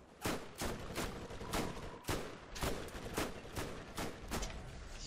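Rapid bursts of gunfire from a Borderlands shooter game, loud repeated shots in an uneven volley lasting several seconds with no talk over them.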